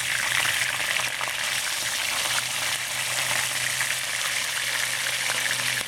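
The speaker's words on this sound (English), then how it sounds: "I'm gonna put the fish in it. So let them pan fry." Cod fillets pan frying in hot oil give a steady, close, broadband sizzle that stays even for the whole stretch, with a faint low hum underneath and no talking.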